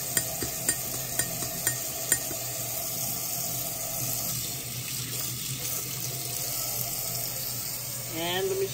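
Jello shot mixture being stirred with a spoon after a rinse at the sink: a few sharp clinks against the container early on, then soft swishing over steady running tap water, close and fairly quiet, with no talking.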